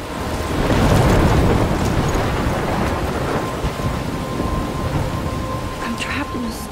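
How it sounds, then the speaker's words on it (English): A thunderstorm in the video game Life is Strange: loud, continuous heavy rain with deep rumbling thunder rolling through, and no voices. "I'm trapped in a storm?"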